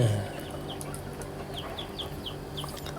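Thai game chickens kept for fighting make a handful of faint, short clucks at a steady pace over a constant low background hum, somewhat distant.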